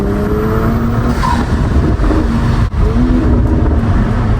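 A Toyota Supra's deep exhaust rumble through an AWE Touring catback, steady and close, with a brief dip midway before the engine drone resumes.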